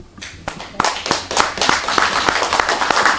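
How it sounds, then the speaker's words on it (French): Audience applause at a film screening in Malakoff, building from scattered claps into steady, fairly loud clapping from a room of people. "Ce monsieur mérite notre respect et nos applaudissements les plus forts."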